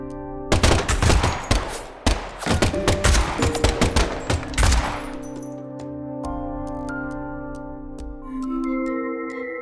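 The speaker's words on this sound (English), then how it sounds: "the last gunshot we heard sounded ominous, Zack." Rapid bursts of gunfire in a video game, loud cracking shots in quick clusters for several seconds before giving way to a sustained tonal musical drone.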